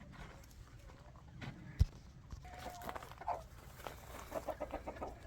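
Chickens on a small farm with broiler birds and a pig pen give soft clucks and short calls at a distance, with a brief thump and faint rustling around them.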